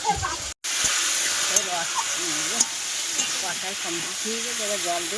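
Curry sizzles with a steady, close hiss as it is sautéed in a pot over a wood-fired stove, with people talking over the frying throughout.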